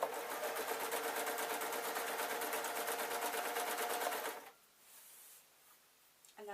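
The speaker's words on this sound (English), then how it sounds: "and then just sewing up to the pinpoint" A sewing machine stitches stretch fabric on a full-circle skater shirt, humming in a steady rapid rattle for about four seconds before stopping, leaving faint room noise.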